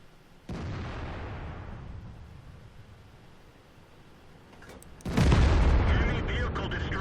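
In World of Tanks, a sharp tank gun blast goes off, and its roar fades slowly. Several seconds later a heavier, louder explosion erupts as an enemy vehicle is destroyed, and a long rumbling tail follows it.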